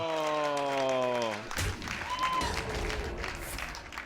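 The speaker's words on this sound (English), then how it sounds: "Really clapping for that Huffer. People love it." Audience at a Hearthstone tournament final breaks into applause after a tonal game sound, clapping in a steady wash while commentators talk over it.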